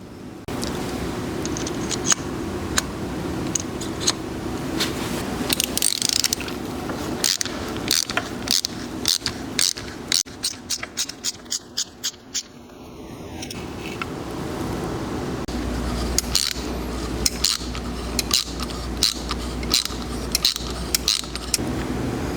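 Valve seat cutter working a Honda CBX cylinder head seat, a long run of loud metallic scraping and clicking strokes in an irregular rhythm, close up with no voices.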